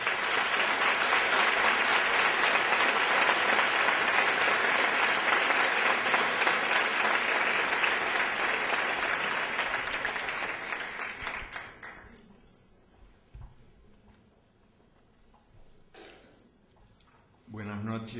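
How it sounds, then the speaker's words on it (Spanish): An audience at a reading by author Eduardo Galeano applauds loudly and steadily for about twelve seconds, then the clapping thins and dies away into quiet room noise. "les pido un nuevo aplauso para él"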